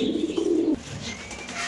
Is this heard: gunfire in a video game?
no